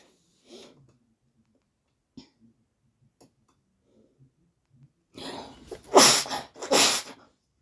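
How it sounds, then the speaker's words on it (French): After a few quiet breaths and small noises, a person sneezes loudly twice in quick succession, close to the microphone. "je savais que j'allais éternuer"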